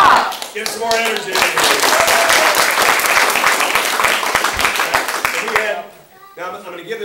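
An audience at a martial arts belt ceremony cheers and applauds loudly, with dense, sustained clapping and whoops up close, then thins out toward the end.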